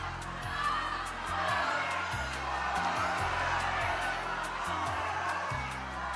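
Loud, continuous cheering and whooping from The Price is Right studio audience, swelling and dipping over several seconds above a bed of game-show music.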